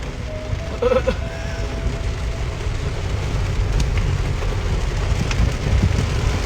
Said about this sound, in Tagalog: Napakalakas ng ulan, biglang bumuhos.